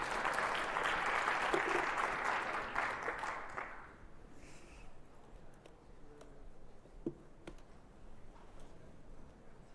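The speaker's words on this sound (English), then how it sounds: "give him a warm round of applause" An audience at BazelCon 2025, a software conference in Atlanta, applauds for about four seconds, then the clapping fades into a quiet hall with a few scattered claps.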